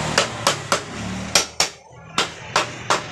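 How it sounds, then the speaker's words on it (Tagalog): Rubber mallet pounding a part of a Rusi TC 125 motorcycle engine during disassembly, seven sharp, close, evenly spaced thuds with a short gap midway, voices faintly in the background. "Rubber mallet mga kailoks ang gamit natin dyan."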